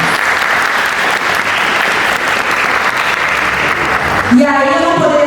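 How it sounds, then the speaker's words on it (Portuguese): An audience at a school cultural showcase applauds fifteen young people, loud, dense, sustained clapping across the whole stretch, with a voice starting to speak near the end. "salva de palmas para os nossos jovens."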